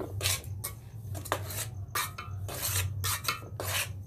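Cake ingredients, egg-free, are mixed in a bowl with a utensil, giving repeated scraping, clinking strokes in an uneven rhythm over a low steady hum, close and fairly loud.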